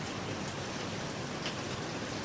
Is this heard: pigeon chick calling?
no